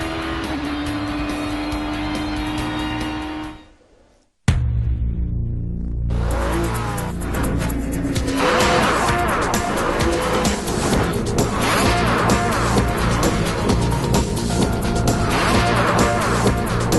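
Formula Atlantic open-wheel race car recorded onboard at the SCCA Runoffs, engine screaming at full throttle through a fast left-hander, loud and continuous with a brief gearshift dropout near the start.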